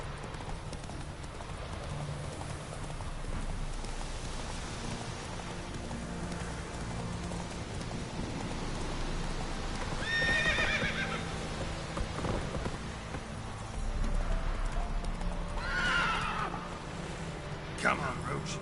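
Horse galloping in The Witcher 3, rhythmic hoofbeats with two distinct whinnies partway through, over rain and game ambience, moderately loud and steady.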